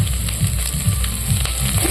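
Steady, close sizzling of fish roe frying in hot oil, with a continuous crackling hiss and a few soft low knocks, no voices.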